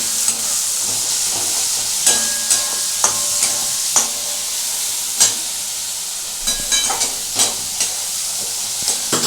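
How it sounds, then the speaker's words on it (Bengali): Tomato masala for a bok fish curry is stir-fried in a pan, a loud, continuous close sizzle with repeated sharp knocks and scrapes of a spatula at irregular intervals. "এটাকে ভালো করে আমি কষছি"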